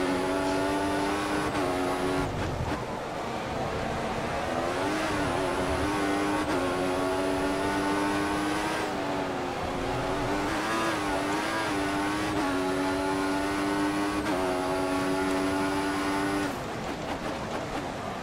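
F1 2014 racing car engine in a video game at the Spanish Grand Prix, loud and continuous, revving up through the gears with repeated rises and drops in pitch.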